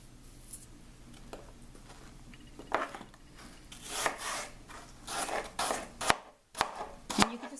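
Apple being cut for an organic fruit salad, a run of crisp knife chops and scraping strokes against a board, irregular and close, growing busier toward the end with no talk.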